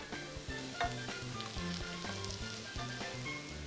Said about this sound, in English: Just want to lightly saute and sweat the shallots.